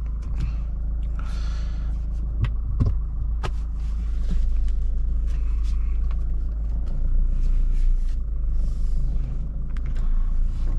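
A Mahindra Scorpio Classic fitted with ARC suspension drives along, its steady low engine and road rumble continuous throughout, with a few sharp knocks and rattles from the cabin.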